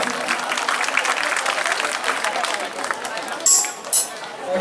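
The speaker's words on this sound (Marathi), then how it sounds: "जोरदार टाळ्या असू द्या सर्वांच्या." At a Mahatma Phule and Babasaheb Ambedkar jayanti festival, an audience applauds with a dense, steady roar of clapping that continues for several seconds and thins toward the end, with a few whistles.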